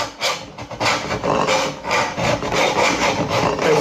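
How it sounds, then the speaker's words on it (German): A knife saws back and forth through a fermented surströmming fish in quick, rasping strokes, close and loud with a gritty scraping texture. "Schneid so, als ob du Baguette schneidest."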